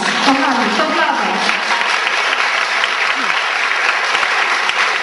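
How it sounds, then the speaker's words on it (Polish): Loud, dense audience applause at an outdoor-style song festival in Trzciel, Poland, a steady wash of many clapping hands holding at an even level throughout. "Duże brawa dla Was! Kochani, to brawa!"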